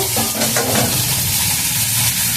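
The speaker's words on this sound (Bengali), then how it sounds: "এইবার আমি এই আলু, বেগুন আর কাঁকরোলগুলোকে একসঙ্গে দিয়ে দিয়েছি। এটাকে একসঙ্গে দিয়ে আমি একটু ভালো করে কষিয়ে নেব।" Potato, eggplant and teasel gourd sizzle steadily in a hot pan while being stirred, a continuous close frying hiss with soft scraping, no talk.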